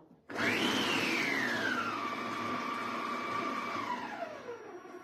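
All Cook food processor motor running at speed 7, a steady whirring hum that spins up sharply, settles into a constant drone, then winds down near the end, close and fairly loud with no talking over it.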